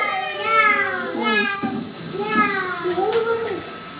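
A child imitates a cat's meow in an animal-call game at school, giving several drawn-out wavering meows in a row, clear and close, with other children's voices in the background.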